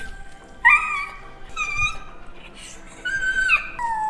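A dog whimpers close by in thin, high, drawn-out whines that come in several separate bursts with short quiet gaps between them.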